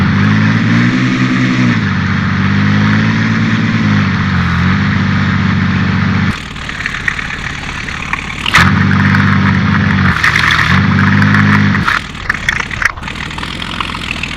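Propeller engine of an Albatros D.Va First World War biplane fitted with a traditional prop in a flight simulator game, droning steadily with shifts in pitch and brief dips and surges as the plane maneuvers.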